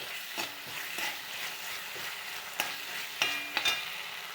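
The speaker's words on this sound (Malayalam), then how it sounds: "അതിലേക്ക് കുറച്ച് സോസ് ചേർത്ത് കൊടുക്കാം" Sauce sizzles steadily in a frying pan with repeated scraping strokes of a utensil stirring, a few sharper clinks near the end.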